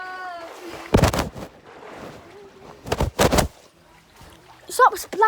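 Water splashes in short, loud bursts in a tank or pool during a pet penguin's pool party, separated by quieter stretches with a voice talking and a high squeaky call near the start.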